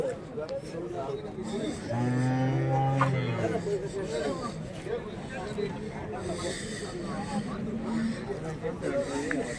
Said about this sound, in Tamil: இதெல்லாம் சின்ன மாடை தான் பொட்டை மாடு